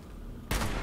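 A single loud gunshot in Fallout 76 hits an enemy in the head, arriving as a sudden sharp blast after a quiet, muffled stretch. The burst fills the rest of the moment with a sustained noisy tail.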